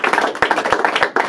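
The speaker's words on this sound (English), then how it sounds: "Give a round of applause for that." Audience applause at a comedy night show in Colorado, a close, dense burst of clapping hands with uneven rhythmic claps.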